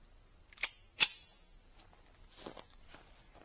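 Two sharp gunshots are fired at a tree from about four yards away, spaced about half a second apart, followed by softer rustling and clattering.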